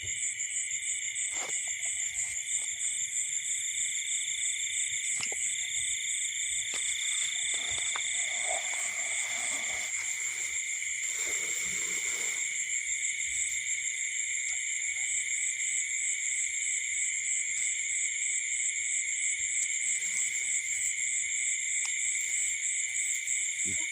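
Frogs croak at night during a frog hunt, a steady chorus blended with shrill crickets and insects, broken by occasional faint clicks and rustles.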